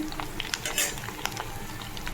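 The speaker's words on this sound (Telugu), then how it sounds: "ఇప్పుడు ఈ కడ్డీ చేపలు వేగిపోయినాయి" Dry fish fries in a pan with a steady crackling sizzle, punctuated by scraping and clinking of a spatula against the metal, close and fairly quiet.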